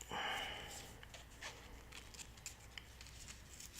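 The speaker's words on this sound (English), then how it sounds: "Adhesive backed foam. Cut a star shape in it." Scissors snip a star shape into a piece of adhesive-backed foam, with a series of small, close, soft cutting sounds at a low level.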